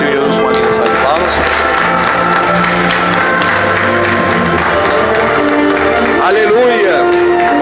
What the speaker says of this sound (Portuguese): O Senhor Jesus, uma linda salva de palmas.